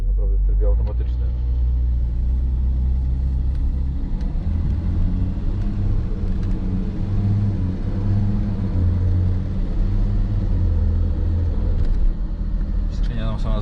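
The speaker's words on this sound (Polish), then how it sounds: "Skrzynia nam sama zmienia biegi." A Nissan Patrol SUV engine, tuned to 400 HP, hums and rumbles steadily while driving, its 8HP70 automatic gearbox shifting, with a smooth, continuous low drone and slight shifts in pitch.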